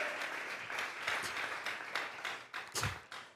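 A church congregation applauds during a Sunday service, a dense wash of clapping rising and falling with a few louder bursts near the end.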